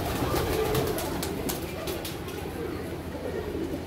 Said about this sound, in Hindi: आप देख सकते हैं कबूतर हमारे